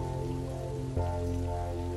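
Heavy rain on a muddy street, a steady dense patter that fills the whole clip at even loudness with no voices.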